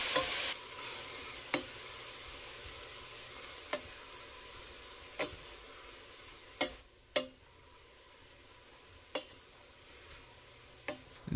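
Grated vegetables with chili flakes being stirred in a pot for a meat sauce, a faint low sizzle under a series of distinct spoon scrapes and knocks against the pot every second or two, close and quiet.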